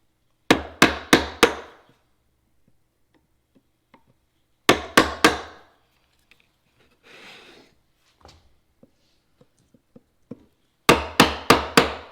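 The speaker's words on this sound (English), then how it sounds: "I'm gonna let you finish chopping" A chisel chops into wood as a mallet strikes it in three bursts of four sharp, rhythmic knocks. Between the bursts, quiet gaps hold faint taps and brief rustling.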